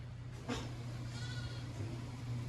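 Sheep graze on the grass around a workshop on a frontier homestead, and one gives a short bleat over a steady low mechanical hum, with a fainter call following later.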